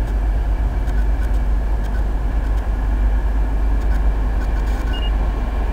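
A light Class 66 diesel locomotive runs past at Leicester with a loud, steady low rumble and engine drone that holds constant throughout, close by.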